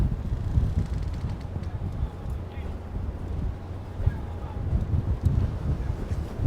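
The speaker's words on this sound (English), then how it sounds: "It is so windy up here" Strong wind buffets the microphone at a muddy outdoor supercross track in Foxborough, Massachusetts, a steady rumbling gusty roar with occasional louder bursts, with a person talking over it.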